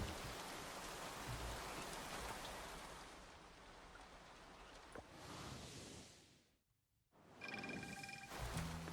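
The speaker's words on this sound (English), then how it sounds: "Gotta say, a drizzle is welcome in this heat." Light drizzle falls in the farming life-sim game Coral Island, a steady soft hiss of rain that fades, cuts out for a moment and then returns.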